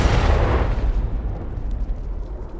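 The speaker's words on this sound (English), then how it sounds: "From behind the door of the office, you hear the sound of an explosion" A deep explosion goes off behind an office door: a loud, rumbling burst that fades into a long, muffled tail of low noise.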